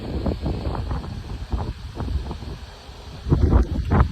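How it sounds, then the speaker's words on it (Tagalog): Autumn wind gusts and rustles outdoors in uneven bursts under a red evening sky, fairly loud and close to the microphone, with a stronger surge near the end. "Sarap ng hangin."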